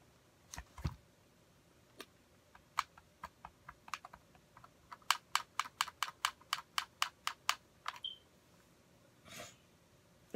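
Keys clicked on a computer keyboard hooked up to an Xbox One, a few scattered taps followed by a quick burst of rapid, evenly spaced keystrokes, close and fairly quiet.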